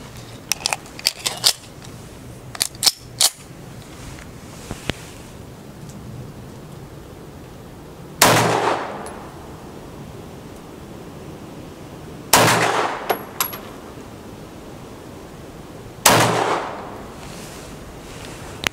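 A gun being fired through a magazine: after some faint clicks of handling, three sharp loud reports ring out several seconds apart, each with a short decaying echo.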